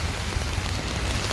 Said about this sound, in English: I'm in downtown Chicago. It's raining.